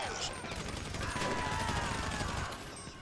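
Gunfire in the GTA Online video game, faint dense shooting blended into a continuous game soundscape behind a low rumble.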